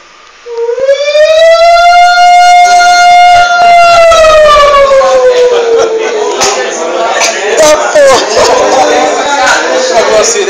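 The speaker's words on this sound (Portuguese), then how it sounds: "Chegou a sirene." A loud siren winds up and holds a long wailing tone, then slowly falls and fades. Voices and crowd noise grow underneath it.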